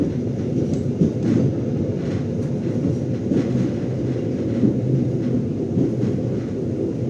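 Gaya Baru Malam Selatan passenger train rolling along the rails near the Cirebon junction, a steady loud low rumble with soft rhythmic wheel clatter throughout, no voices.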